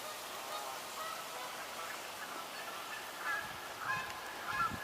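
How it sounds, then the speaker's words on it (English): Canada geese honking faintly in the distance as they take off and fly, short calls growing a little louder toward the end over steady outdoor background noise. "So we have some Canada geese that sound like they're in the air that have taken off."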